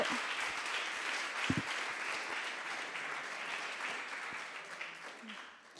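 Audience applause at a business and technology demo day fills the room, a dense, steady wash of clapping that slowly fades toward the end.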